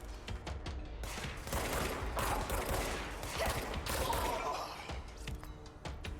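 Enemy gunfire in the video game Control crackles as a continuous, dense barrage, with scattered impacts and bangs layered over a steady rumble that never lets up.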